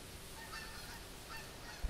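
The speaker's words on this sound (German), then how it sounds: "Da fliegen die Gänse." A flock of geese honks in the hunting game theHunter as the birds fly overhead, a few faint calls rising briefly over a steady outdoor ambience.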